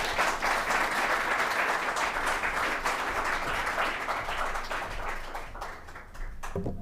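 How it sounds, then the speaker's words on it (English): A seminar audience applauds the evening's speaker after a talk on classical Sparta. The clapping is steady and full, then thins out and fades near the end. "A big round of applause for our speaker tonight"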